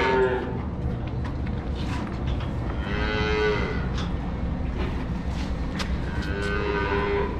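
Cattle moo repeatedly at feeding time on a dairy farm, with several loud, drawn-out calls from calves waiting for milk over a constant barn background.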